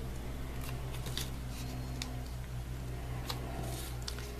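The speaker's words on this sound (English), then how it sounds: "I'm going to fold them all." Paper sheets being folded in half for paper flowers give crisp, scattered creases and rustling taps at close range over a low steady hum, with no voices.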